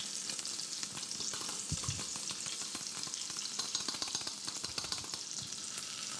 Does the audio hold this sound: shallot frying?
yes